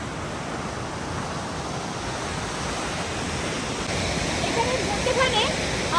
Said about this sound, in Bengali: এই জলটা লাচুমে যাচ্ছে আর জলের কি ফোর্স!